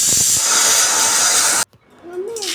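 A pressure cooker whistle lets off steam in a loud, steady hiss that runs for about a second and a half, then cuts off abruptly, leaving faint kitchen sounds behind.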